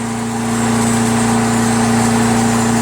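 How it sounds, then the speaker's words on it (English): Craftsman 6HP Briggs Quantum lawn mower engine built from spare parts with excess oil in the muffler, idling at a steady loud drone with a strong low hum and an even rhythmic throb that holds close and unchanging throughout. "Engine sounds good, huh?"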